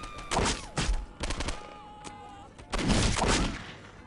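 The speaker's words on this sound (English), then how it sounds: "Dude, why is he shooting me?" Gunfire in the video game Postal 2: several loud bursts of shots in quick clusters, with a sustained tonal game sound running between them.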